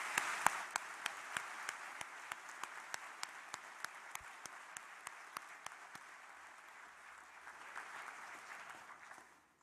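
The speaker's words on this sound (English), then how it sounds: "Please join me in a round of applause to each other to recognize the" Applause at a university graduation ceremony: a large hall of people clapping continuously, with sharp individual claps standing out in a regular pattern before the sound gradually thins and fades.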